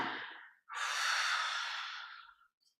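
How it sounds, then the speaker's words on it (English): A long, steady exhale through the mouth during seated yoga, close and breathy, swelling over about two seconds and then fading, following a brief softer breath at the start. "Exhale down."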